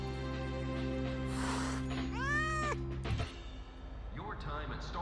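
A cat meows a few times in the Wuthering Waves video game, rising and falling cries over steady background music, with a softer meow near the end.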